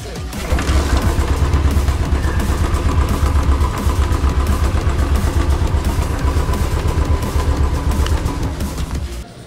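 A Royal Enfield Classic 500 fuel-injected motorcycle engine idles steadily nearby, a loud, even mechanical rumble with a fast pulsing beat throughout.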